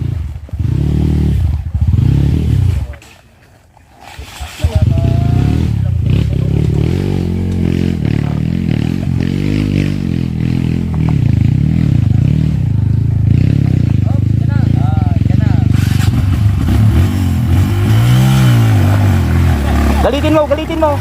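A motorcycle engine runs steadily on a trail ride in the Inxiong trail area, rising in a louder rev near the end, with faint clatter and voices throughout.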